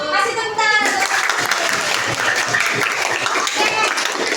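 Children applaud together in an elementary school classroom during a lesson, a steady burst of dense, close clapping lasting several seconds with some voices mixed in.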